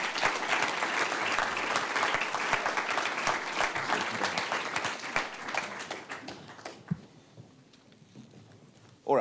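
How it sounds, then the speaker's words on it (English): An audience applauds a panel at the World AIDS Report launch at UNAIDS in Geneva, with dense, loud clapping for about six seconds that thins out and fades into room quiet. "Please give them a big round of applause as they take their seats."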